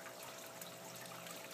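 Water trickles through planter boxes in a small backyard aquaponics setup, a faint, steady dribbling and light splashing with a low mechanical hum underneath.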